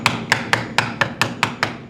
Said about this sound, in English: use a hammer, don't use a mallet